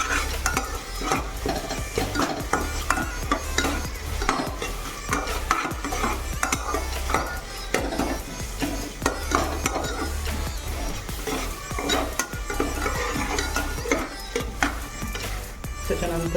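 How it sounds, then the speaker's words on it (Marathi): Ginger-garlic paste stir-fried in a pan produces a busy run of metal spatula scrapes and clinks against the pot over a moderate sizzle, with faint talk in the background. "त्याच्यानंतर आपण इथे आले लसूण पेस्ट टाकण्यात आहोत आणि व्यवस्थित परतून घ्यायचं परत एकदा"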